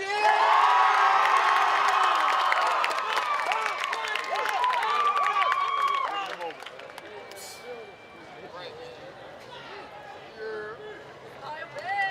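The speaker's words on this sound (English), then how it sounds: "And one more cheer." Graduation ceremony crowd at a Delaware State University commencement cheering loudly for several seconds, with shouts and whoops over applause, then settling into lower crowd chatter with scattered calls.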